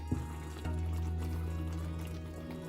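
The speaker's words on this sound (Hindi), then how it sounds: "एक छोटी कटोरी पानी मिला रहे हैं।" Small bowl of water poured into chicken Manchurian cooking in a pan, a brief splash followed by steady sizzling and bubbling with a low kitchen hum, close and without talk.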